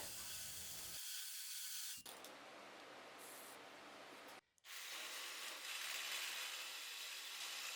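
A saw blade cuts through aluminum gate material lubricated with WD-40 dry lube, giving a steady, loud broadband grinding rasp in two long passes separated by a brief pause.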